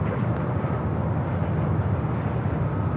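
A Delta 767-300ER airliner touching down on runway 24 right at LAX gives a steady, loud engine roar with a low rumble, continuous and unbroken throughout.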